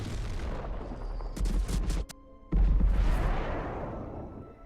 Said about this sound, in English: the game really hates this explosion just going off on repeat